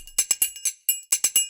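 A tech house percussion loop plays at low volume, with crisp, bright metallic hits in a quick syncopated rhythm and short gaps between them, and no voices present.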